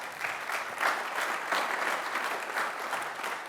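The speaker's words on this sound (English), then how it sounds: "Let's give them a round of applause." A crowd applauding steadily, a dense wash of clapping that holds at an even level throughout with no voices over it.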